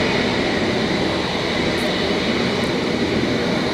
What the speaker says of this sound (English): coming in now is going to be our train. It's going to be the unit number 407 S8 stock Metropolitan line train